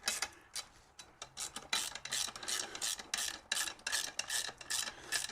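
A hand ratchet tightens a bolt on a car starter motor installation, giving a fast, steady series of close rasping clicks in short repeated bursts.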